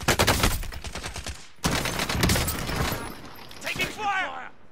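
Rapid bursts of automatic gunfire from a first-person shooter video game, dense repeated shots with a brief pause, then more firing and game effects, loud and close.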